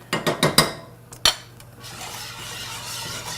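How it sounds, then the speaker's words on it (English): A spoon clatters against a pot while stirring a cornstarch mixture, four quick metallic knocks at the start and one more after a pause, then a soft scraping swirl that continues. "And we're going to stir."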